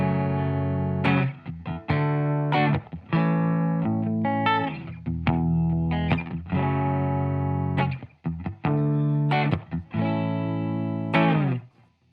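Electric guitar played through a BigSky reverb pedal preset giving a tight room ambience: a series of strummed, slightly distorted chords and short phrases with brief gaps between them, with a short, close reverb tail.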